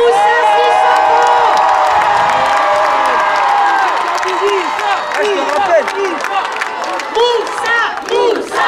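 A large crowd at Aulnay-sous-Bois town hall cheers, whoops and applauds the mayor and footballer Moussa Sissoko, a loud, sustained roar with scattered shouts and clapping close by.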